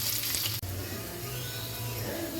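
Cumin, dried chilies, curry leaves and crushed garlic sizzle in hot oil, a loud, continuous close-up hiss with one brief dropout.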